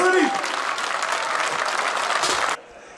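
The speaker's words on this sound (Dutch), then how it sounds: "Een groot applaus voor Jos Verriet." An audience at a Graskaas cheese auction in a hotel claps loudly and steadily for a few seconds after a winning bid, then the applause stops abruptly.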